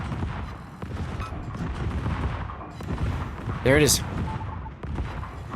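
Warship secondary guns fire in World of Warships, a sharp booming burst rising above steady background battle noise while someone commentates throughout.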